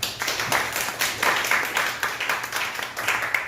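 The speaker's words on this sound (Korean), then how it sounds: "격려의 박수." A church congregation bursts into a steady round of encouraging applause, many hands clapping at close range in dense, even bursts for several seconds with no talk over it.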